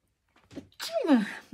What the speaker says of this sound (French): excusez-moi, éternuement.